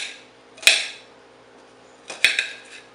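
A knife strikes a cutting board twice in sharp, clicking chops while slicing food for a bacon corn breakfast side, each hit bright and close with quiet pauses between.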